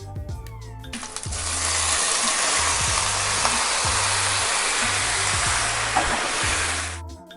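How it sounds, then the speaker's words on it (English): Pork hitting caramelized sugar in a pan for braised pork and egg sets off a loud, steady hiss that starts abruptly and holds for about six seconds over low background music, then cuts off. "Love that sizzle sound."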